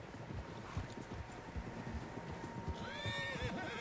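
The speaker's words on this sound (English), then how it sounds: "Horses, quite a few of them." Horses in Red Dead Redemption 2 neigh and whinny with a high rising call near the end, over steady clip-clop of hooves and a low wind and ambient bed throughout.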